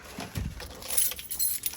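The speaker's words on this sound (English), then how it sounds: "Go ahead and grab my keys here." Keys jingle and clink briefly up close, a faint metallic rattle over quiet background noise.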